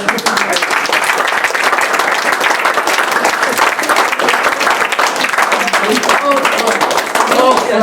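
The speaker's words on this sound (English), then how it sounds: "je vous demande aussi de les applaudir" Audience at an art competition award ceremony applauds the jury, steady dense clapping filling the room with a few cheers and voices mixed in throughout.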